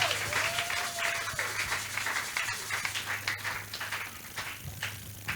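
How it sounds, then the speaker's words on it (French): A church congregation claps continuously, a dense, fairly distant and soft wash of many hands, with occasional louder claps and a faint tone at the start. "Applaudissons encore pour le Seigneur Jésus."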